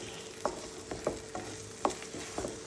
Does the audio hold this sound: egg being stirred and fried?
yes